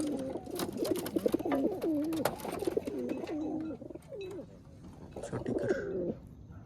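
Pigeons coo close by in repeated soft, throaty warbles, a few overlapping calls, with faint background noise.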